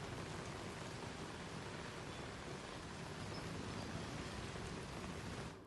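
Heavy monsoon rain pours down in Surat, a dense, unbroken hiss of downpour that holds steady and faint in the distance.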